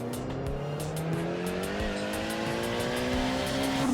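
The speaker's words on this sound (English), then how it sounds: "This has a very, very noisy turbo." Tuned Mitsubishi Evo 6 with a noisy turbo, engine note rising steadily as the car accelerates, a loud, continuous close-up drone with tire and road noise and no talking.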